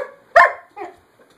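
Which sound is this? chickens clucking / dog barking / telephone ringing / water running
dog barking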